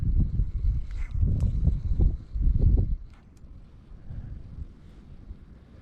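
Gusty wind buffets the microphone in low rumbling bursts while inshore fishing, then eases into a softer, steadier rush of air.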